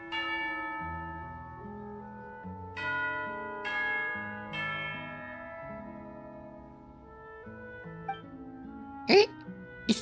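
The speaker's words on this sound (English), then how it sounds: "You hear the sound of a bell." Bell chimes for tea time in the video game Genshin Impact, ringing in layered, resonant strikes that decay slowly over soft melodic game music, with a few sharp clicks near the end.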